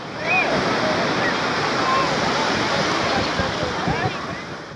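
Sea waves washing onto the Arabian Sea shore at Somnath, Gujarat, a steady broadband roar of surf filling the whole stretch, loud and continuous with slight surges and a brief fade at the end.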